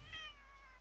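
A person playing Rainbow Six Siege imitates a cat with a single short, tonal meow that rises and then trails off, heard close and alone in under a second.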